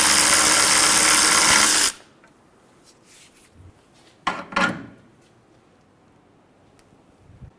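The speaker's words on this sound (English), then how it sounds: "We're going to remove the front lower control arm bolt." Tool work on a 2003-2008 Honda Pilot front lower control arm bolt with a 19mm socket: a loud, continuous burst of about two seconds stops abruptly, followed by near silence with a few faint clicks and a brief knock.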